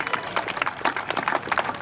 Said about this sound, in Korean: 박수 한번 주세요 그러면.